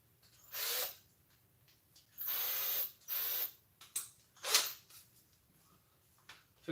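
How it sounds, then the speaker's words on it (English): A Dremel rotary tool cuts plastic in short, harsh grinding bursts, several on-off passes of about half a second each, separated by quiet gaps, close by. "I will share with you my Dremeling secrets."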